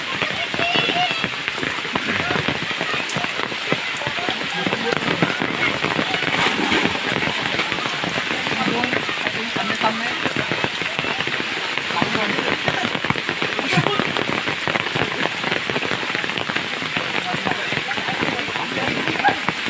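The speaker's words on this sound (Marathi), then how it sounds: "आता पाऊस जास्त वाढला आहे इकडे" Heavy monsoon rain pours steadily on a forest, a dense continuous hiss and patter throughout, with voices faintly underneath.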